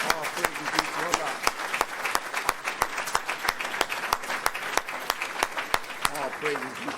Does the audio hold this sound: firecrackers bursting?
no